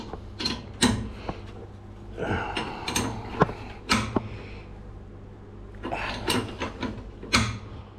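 A spanner tightens a fitting on craypot gear in a run of sharp metallic clicks, ratchets and clanks coming in bursts, close and fairly loud, with quieter gaps between them.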